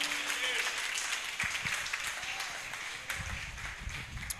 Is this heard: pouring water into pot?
no